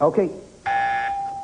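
A game show contestant's buzzer goes off with a loud, steady electronic tone that holds for most of a second, just after a short spoken word.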